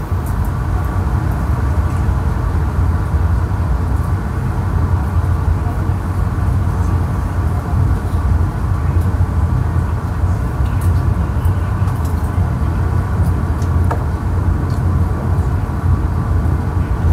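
Steady low rumble and hum inside the Ijen Express, a passenger train on the Malang to Banyuwangi route, running on its tracks with a constant, even drone throughout.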